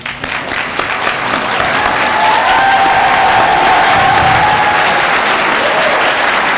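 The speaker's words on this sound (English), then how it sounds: "Graduates, please stand and cheer for all those that have helped you get to this moment." Graduates and audience at a commencement ceremony break into loud, sustained applause with scattered cheers. The clapping builds quickly and then holds steady as a dense, close wash of hands.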